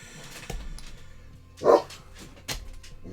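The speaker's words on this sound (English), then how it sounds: "There are the dogs barking." A dog gives a single short bark indoors, fairly close and moderately loud, with quieter background noise and soft knocks around it.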